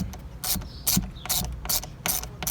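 Ratchet wrench clicking in several quick bursts while a bolt is tightened during installation of paddle shifters on an SRT car, the pawl's sharp clicks close and fairly loud with short pauses between strokes.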